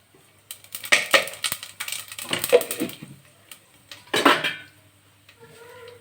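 Whole masala spices dropped into hot ghee in a pot for Sunday lunch biryani, heard as a few scattered clinks and rattles against the metal, with short bursts and a faint sizzle near the end.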